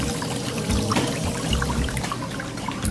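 Water pours and splashes continuously into a pedicure foot bath, a steady close gurgling trickle with no talk over it.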